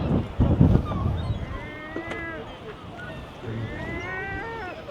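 Birds calling in the coastal town of Essaouira with a cat-like, meowing quality. Several wavering cries come over wind noise and a rough rumble near the start, with a voice briefly talking.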